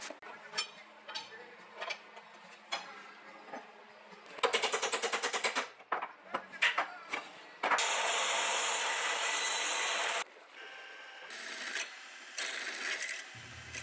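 A metal lathe turns down the outside edge of a coupling nut, with intermittent bursts of grinding and whirring cutting noise, a long loud steady stretch in the middle and scattered knocks between passes.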